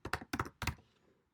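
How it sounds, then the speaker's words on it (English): Keys on a computer keyboard clack in three quick close-up bursts of several strokes each, then stop, with nothing else heard. "So if I just type that in again"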